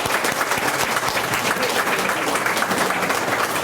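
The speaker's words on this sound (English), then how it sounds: "I'd like us all to join hands and applaud Ben Ryan and our boys for winning gold medal" Sustained audience applause fills a conference hall at a medical conference opening in Fiji, a dense, steady wash of many hands clapping with no pauses.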